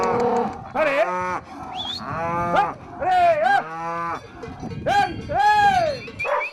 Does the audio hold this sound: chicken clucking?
no